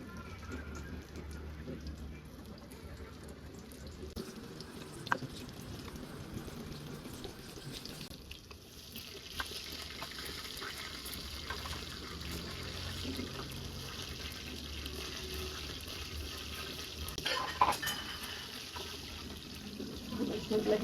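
Pods coated in oil and a ginger, garlic and chilli masala fry in hot oil with a steady, rain-like sizzle. The sizzle grows brighter and fuller partway through, with scattered small pops and clicks.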